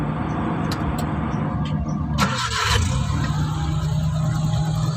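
A car engine, on a vehicle that loses coolant quickly, cranks and starts in a short loud burst about midway. A low steady idle hum continues afterward, with no talk.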